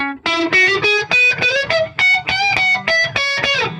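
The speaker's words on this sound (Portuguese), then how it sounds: "Esse tipo de distorção ocorre quando as notas musicais são tocadas simultaneamente em um instrumento polifônico, criando um som de cortes distorcidos." Chords struck on a polyphonic instrument through a heavy distortion effect, about ten choppy bursts in an uneven rhythm, loud and close with buzzing, clipped harmonics.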